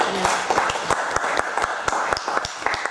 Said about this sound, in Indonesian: Mungkin kita bisa berikan dulu tepuk tangan kepada Ibu Ali.